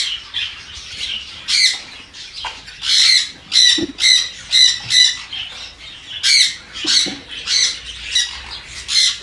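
Sun conure parrots in an aviary give a rapid series of loud, harsh, shrill squawks in repeated bursts, close by and continuous, with no talk.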